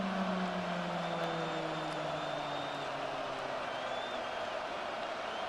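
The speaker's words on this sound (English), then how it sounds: "this crowd trying to force a false start here" Steady roar of a football stadium crowd on third and inches, a broad sustained wash of voices rising to rattle the offense toward a false start, with faint whistle-like tones drifting over the din.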